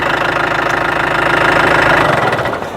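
Construction machine diesel engine held at about 2000 RPM, a loud steady close rumble with a fast rhythmic knocking pulse, easing slightly at the end.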